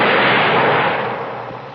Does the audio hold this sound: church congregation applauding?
no